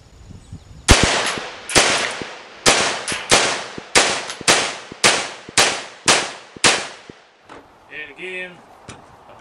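A Freedom Ordnance FX9 pistol-caliber carbine fed from a block magazine fires about a dozen loud, sharp shots in quick, steady succession. The shots stop abruptly, and a brief voice follows at the end.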